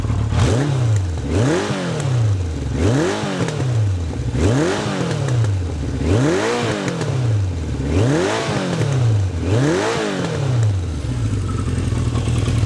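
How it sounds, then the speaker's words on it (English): A 1974 Kawasaki Z1A 900 motorcycle engine, not fully warmed up, revs repeatedly in a steady rhythm, each rev rising and falling, about seven times in a row, loud and close. "Have a listen to the engine."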